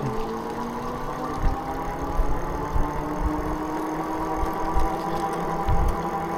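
Heybike Horizon 24x4 dual-suspension folding e-bike motor pulling uphill on throttle only from a dead stop, a steady electric whine that rises slowly in pitch, with low wind rumble and occasional bumps underneath.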